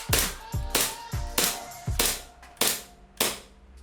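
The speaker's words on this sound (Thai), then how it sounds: "ผมยิงเทสทดสอบหมด5นัดนะครับ" Five test shots from a gas-powered airsoft Glock BB pistol, evenly spaced sharp pops with short ringing decay, fairly close and loud with no talking.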